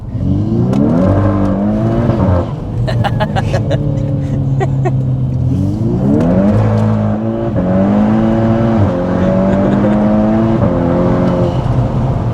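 A Stage 2+ tuned VW Scirocco R engine, loud and close, revs repeatedly, its pitch climbing and falling across several throttle blips with crackles between pulls.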